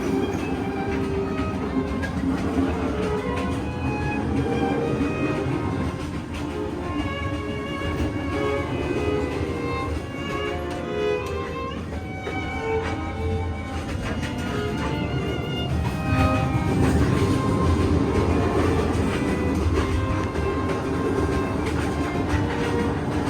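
Overnight sleeper train from Hanoi to Sapa rolling on rails, a continuous loud rumble with rhythmic clatter and faint metallic squeals, heard from inside the carriage.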